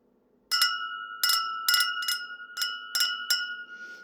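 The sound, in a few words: glass goblets clinking and ringing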